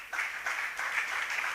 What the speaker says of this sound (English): Can you please keep clapping?